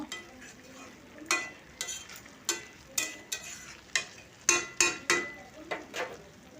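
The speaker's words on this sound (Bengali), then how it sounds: "আবারও একটু নেড়ে আমি শুকনো করে নেব" Cabbage stirred in a pan as it fries dry, a quiet background sizzle broken by about a dozen distinct scraping strokes of a spatula, each a short sharp rasp at an irregular, unhurried pace.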